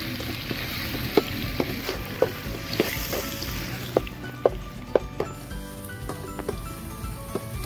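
Sliced onions, slit green chillies, chopped coriander and mint sauté in a pan for chicken biryani, a soft steady sizzle broken by regular clinks and taps of a spatula stirring the mix.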